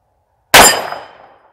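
A single sharp shot from a .38 Special revolver fired double action rings out as one loud, close crack with a short fading tail, alone.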